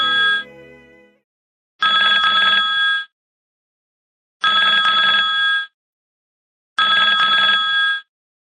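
A telephone rings for an incoming call in three loud, evenly spaced bursts of about a second each, with short silent gaps between them and a brief fading tone at the start.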